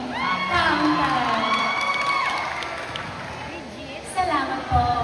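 A pageant crowd cheers and shouts loudly, with many overlapping voices and whoops at close range, thinning slightly before fresh shouts swell near the end.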